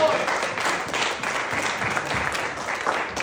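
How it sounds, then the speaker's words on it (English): A church congregation claps hands in praise during a worship service: dense, sustained applause that stays loud and steady throughout, with voices mixed in. "come on, clap your hands and praise the Lord for the word"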